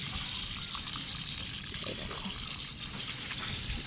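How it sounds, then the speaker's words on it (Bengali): Tap water runs steadily over freshly picked leafy greens, rinsing garden soil from their roots outdoors; a continuous close gush and splash with no speech. "এখানে কল দিয়ে গোড়াটাকে ধুয়ে নেব।"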